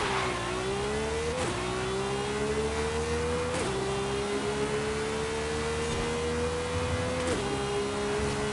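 Ferrari engine revving hard in a racing video game (MLK Rivals), a loud steady high drone that climbs in pitch and drops sharply with each gear shift, about three shifts, continuous and alone.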